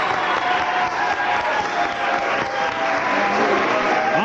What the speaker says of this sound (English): I would like to have a nice round of applause for our scorekeeper, Andrea Ellis